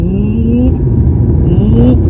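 Power steering pump on a 1997 Suzuki Baleno groaning as the wheel turns, a loud continuous low whine and rumble with a rising drone that swells twice over the running engine.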